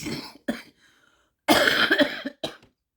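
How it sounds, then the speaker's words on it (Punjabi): Several harsh, close coughs in quick bursts, one longer rasping fit in the middle followed by a shorter cough. "ਖਾਂਸੀ ਵੀ ਇੰਨੀ ਭੈੜੀ ਲੱਗੀ ਹੋਈ ਹੈ"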